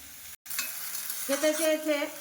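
Cabbage and potatoes frying in a wok, a steady close sizzle with a brief dropout near the start and faint tonal clinks toward the end.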